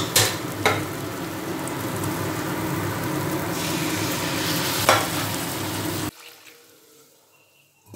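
Vegetables with cumin powder are stirred in a hot pan, a continuous sizzle with a few sharp scrapes of the spoon before the sound cuts off abruptly near the end.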